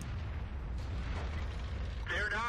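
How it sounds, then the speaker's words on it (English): A blind artillery shot from the FV304 self-propelled gun in World of Tanks: a muffled boom over a low rumbling engine drone, followed by a brief ringing, whining tail near the end. "I'm going to take a blind shot"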